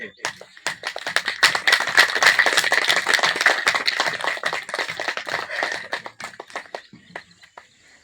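Audience at a school result ceremony in Dhoke Lunda, District Pindigheb, clapping hands: sharp, uneven claps swell into a lively burst, then thin out and die away to a few scattered claps near the end.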